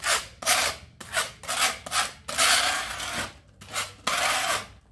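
Acrylic wall putty spread with a putty knife to fill cracks before painting, heard as close, rhythmic scraping strokes, about eight rasping swipes with brief pauses between them.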